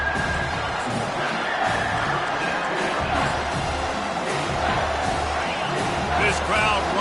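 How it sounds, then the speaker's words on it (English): A college football stadium crowd roars steadily throughout, a dense wash of cheering with a commentator talking over it. "This crowd rising up, sensing that its defense needs some help."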